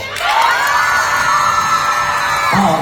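A live comedy show audience in Australia lets out a loud, sustained cheer with shouts and whoops that cuts off abruptly after a few seconds.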